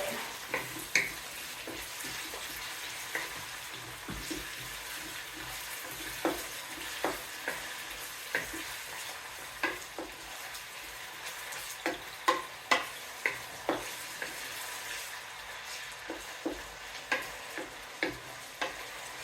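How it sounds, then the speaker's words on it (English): Onions fry and caramelize in a pan for beef curry, a steady soft sizzle under a series of repeated spoon scrapes and taps as they are stirred, close by and without talking. "You're gonna brown our onion first. You have to caramelize your onion."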